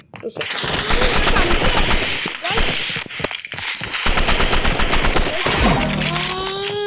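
Loud, rapid automatic gunfire comes in sustained bursts from a Roblox Rivals shooter match, broken by short pauses and a few sharper single shots. Game effects sweep in near the end.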